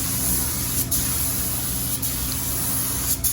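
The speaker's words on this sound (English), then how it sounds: "Now we're going to go ahead and put our clear coat on here" Spray gun laying light, even clear coat onto a car's quarter panel during cracked-paint body repair, a steady close hiss running throughout with a few brief breaks in the airflow.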